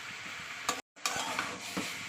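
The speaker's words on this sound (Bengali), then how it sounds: "মশলার সঙ্গে পেঁপে আলু ভালো করে কষিয়ে নেবো।" Papaya and potato pieces stir-fried with spices sizzle in a pan as a spoon scrapes and turns them, a short close burst with a brief silent gap midway.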